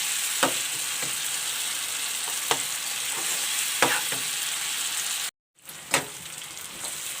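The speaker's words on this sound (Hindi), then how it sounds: "अब मैं हरी मिर्च डाल के इसे 1 से 2 मिनट मज़ीद भूनूँगी।" Small green chillies fry in a tomato chutney, giving a steady hissing sizzle broken by occasional spatula scrapes, with a brief cut to silence near the end and no talking.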